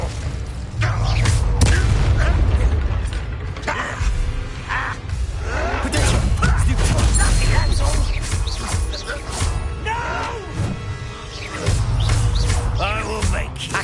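Incendio fire spell cast in the video game Hogwarts Legacy, loud whooshing bursts and booming impacts amid busy combat effects, with a voice speaking over the action.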